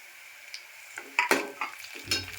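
Curry leaves going into onions fried to a pinkish softness for a Malvani chicken liver masala, a short burst of crackling sizzle with clinks and scrapes of a utensil against the pan, close and alone.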